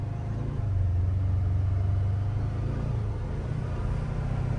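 A 2024 Polaris Xpedition UTV cruises slowly along a trail, its engine giving a steady, close, low droning hum with a faint rise and fall in pitch throughout.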